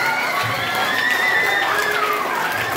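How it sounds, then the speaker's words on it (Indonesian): At a junior high school orientation, a lively student audience applauds and cheers, with high shouts and whoops riding over a dense, continuous bed of crowd noise. "Tepuk tangan dulu dong"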